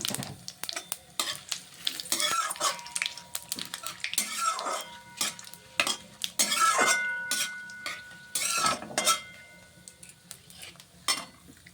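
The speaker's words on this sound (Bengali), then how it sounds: "ভালো করে জিরাটা একটু ভাজা ভাজা করে নিচ্ছি" Cumin seeds crackle and sizzle in hot oil with occasional stirring scrapes and clinks of a utensil against the pan; no talking.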